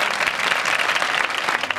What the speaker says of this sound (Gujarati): આવા દાતાના માનમાં બજાવજો તાળીઓ